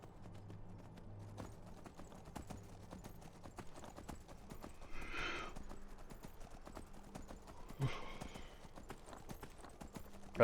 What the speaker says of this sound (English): Oh, that's one of the wild horses.